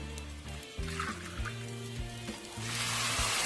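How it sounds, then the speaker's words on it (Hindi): Yakhni, a meat stock, is poured into a pot of beef resha pulao, making a sizzle and a liquid rush that swells toward the end, with low tonal hum underneath. "इसके बाद ये जो यखनी है ये आप डालेंगे।"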